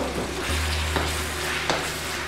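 Seasoned beef, salted and peppered, sizzling steadily in a pan over medium-high heat, a continuous close hiss with a couple of faint scrapes and no voices.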